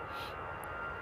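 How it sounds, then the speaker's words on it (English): Airbus jet engines on takeoff at Amsterdam airport sustain a faint but steady whining roar, with a high engine whine running through the brief stretch, alone with no voices. "Ooh, and nice Airbus screamers."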